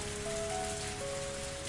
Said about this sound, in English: there's no reason for me to stay out here and get rained on